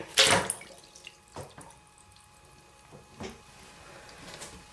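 A GoPro camera on a suction cup mount splashes into water with one sharp plunge, followed by soft drips and small sloshing sounds at close range, no voices.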